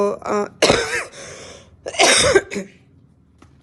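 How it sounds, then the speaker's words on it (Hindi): Two harsh, close coughing fits separated by a pause, each a cluster of rough bursts, with a faint click near the end. "सॉरी, बार बार खांसी आ रही है"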